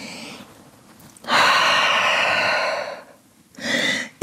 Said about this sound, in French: Grande respiration en chien tête en bas.